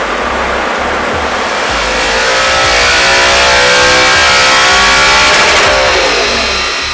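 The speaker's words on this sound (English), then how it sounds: "And our now modified R8 goes back onto the dyno." Modified Audi R8 with a newly installed exhaust system revving hard on a dyno, a loud continuous engine roar climbing steadily in pitch and swelling toward the end of the run.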